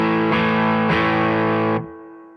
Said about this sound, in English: This is what it sounds like with none of the pedals on.